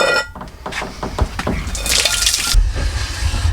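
Water runs and splashes as animal water dishes are filled during reptile-keeping farm chores, a steady close pouring rush with brief drips and a louder gush near the end, no talking.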